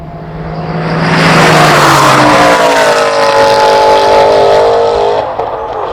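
Manual-transmission Aston Martin race car launching off the line in a drag race, loud close engine roar climbing through revs with tire squeal, then easing at the end.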